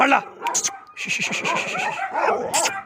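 A 15-month-old male Gultair guard dog on a farm barks and then whimpers in a quick series of high, wavering yips, close and steady, with a person's voice partly over it.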